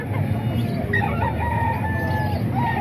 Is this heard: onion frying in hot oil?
no